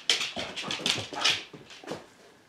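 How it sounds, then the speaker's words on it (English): Dog whining in a home while its owner applies makeup, several short high whimpers and yips in quick succession, close and fairly loud, trailing off quieter near the end. "The dog thinks she doesn't have to listen."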